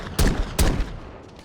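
Desert Eagle tactical reload in Fallout 4: two sharp, loud gunshot-like metallic bursts in quick succession, each followed by a short mechanical rattle, alone with no voice.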